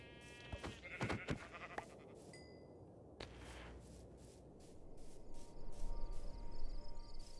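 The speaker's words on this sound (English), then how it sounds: "Sheep went down fast." Sheep bleating in Minecraft Bedrock Edition survival play: a few short, fairly close bleats early on, followed by softer game ambience and scattered clicks, with no talking.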